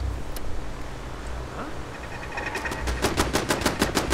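Automated turrets firing in Fallout 4 during a settlement defense, sounding as rapid, evenly spaced bursts of shots that start midway through and grow louder and denser toward the end, over a low background rumble.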